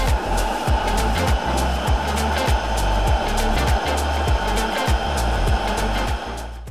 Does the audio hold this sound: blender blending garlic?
yes